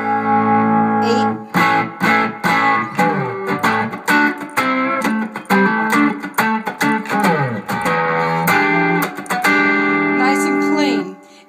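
An electric guitar runs through a Tube Screamer overdrive pedal with the guitar volume wide open, playing loud, sustained distorted chords and bends in phrases with short pauses, close and alone without talk.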